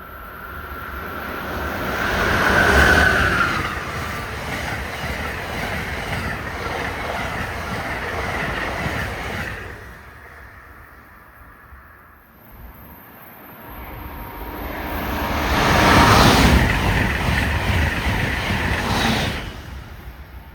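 The Silver Meteor passenger train rushes past a station platform in New Brunswick, a loud rolling roar that swells, dips briefly, then surges again with wheel noise and whooshing air, no talking.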